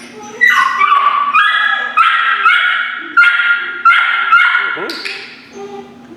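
A female puppy being trained to bark on command gives a run of sharp, high-pitched barks in steady bursts, close and fairly loud, with a voice speaking briefly around them.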